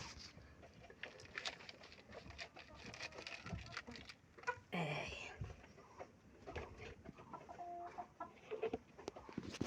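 Tiger-breed hens clucking on a chicken farm, scattered near and distant clucks over a faint background hum, with a brief louder burst midway and no talking.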